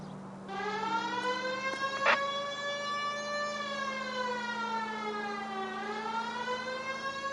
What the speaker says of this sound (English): The siren might keep people out of your way, Phelps.